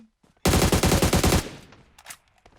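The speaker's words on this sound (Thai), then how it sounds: "โหดูยิงกันดิ" A loud burst of rapid automatic gunfire in PUBG Mobile runs for about a second, followed by fainter scattered shots and noise.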